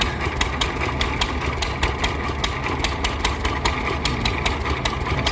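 A 1941 John Deere H two-cylinder tractor engine runs close by, firing in a steady, even pulse of loud regular beats with a low rumble between them and no voices over it.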